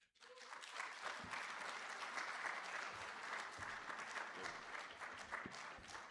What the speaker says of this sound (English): Another big round of applause for Mr. Hibbert Anderson, please.